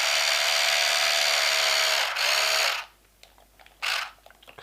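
A power drill whirs steadily for nearly three seconds as it drives a screw into a gel blaster mech plate, then stops, followed by light handling clicks and one short final burst of the motor.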